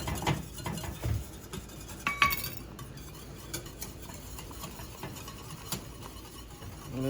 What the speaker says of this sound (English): we pour our grits in and move the water as we pour them so we don't get lumpy grits